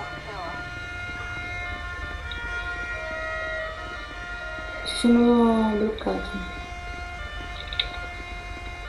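An ambulance siren caught in traffic wails steadily at mid-distance, with a louder rising-and-falling sweep for about a second midway, while someone speaks briefly over it.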